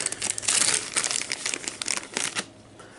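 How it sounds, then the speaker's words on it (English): Plastic dice bags crinkle and rustle close to the microphone, a dense run of sharp crackles in quick bursts that lasts a few seconds and then quiets. "These bags crinkle too much on camera"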